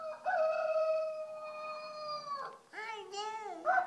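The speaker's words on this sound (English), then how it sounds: "Here's the rooster." Rooster crowing from a children's animal sounds toy: a loud, close, tonal crow held for about two seconds, then a second shorter wavering crow, played alone.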